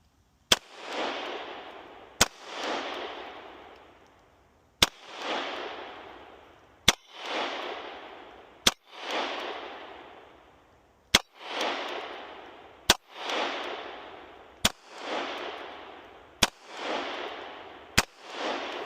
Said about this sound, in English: I'm shooting high and then I'm shooting low.